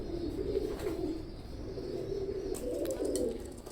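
Teddy pigeons coo in a low, rolling run of repeated calls, steady and close, with no talking over them.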